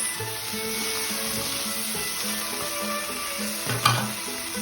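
Tomatoes drop into a hot kadai of oil for peas rice and sizzle in a steady, close frying hiss, with a brief louder crackle and a spoon stirring near the end.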